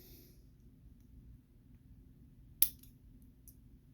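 A single quick scissor snip through a small pointed piece of material, one crisp click against a faint low background hum.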